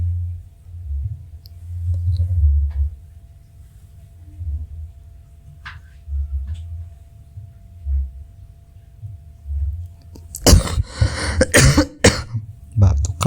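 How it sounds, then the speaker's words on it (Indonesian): Quiet low rumbling and faint clicks, then a burst of several loud, close coughs near the end. "Batuk kak."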